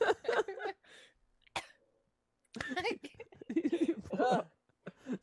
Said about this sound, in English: You coughed out all that smoke